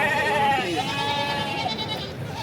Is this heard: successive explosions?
no